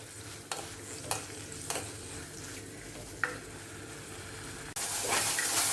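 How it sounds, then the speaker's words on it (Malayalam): Crushed shallots for a Kerala fish curry sizzle steadily in hot oil, with a few sharp scraping stirs of a spoon and a louder surge of frying toward the end; no voices. "ഞാൻ ഒരു കപ്പോളം ചുവന്നുള്ളി ചതച്ച് വെച്ചിട്ടുണ്ട്, നമുക്കത് കൂടി ഇട്ട് കൊടുക്കാം."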